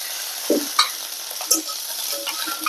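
Curry leaves, onion, green chilli and garlic hit hot oil in a pan, sizzling and crackling steadily with a few louder spatters and stirring clicks, no voices.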